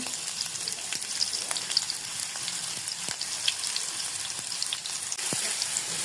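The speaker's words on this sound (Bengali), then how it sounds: "এবার আমি কড়াইয়ের মধ্যে তেল দিয়ে দিব পরিমাণ মতো। এরপর পেঁয়াজ রসুন দিয়ে দিব পরিমাণ মতো।" Onion and garlic fry in oil in a wok, giving a steady close sizzle with small crackles and pops and no voices.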